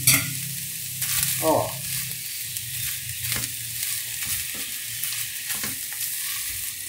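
Garlic and olive oil hitting a hot pot with pork loin for a creamy stew: a loud, continuous close sizzle and crackle that stays steady throughout, with occasional stirring scrapes.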